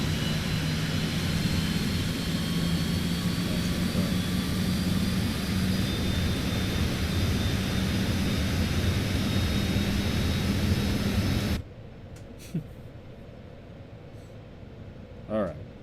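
Steady, loud jet-engine drone inside an aircraft cabin on final approach, an even roar that stops abruptly, leaving quiet room tone with a couple of soft bumps.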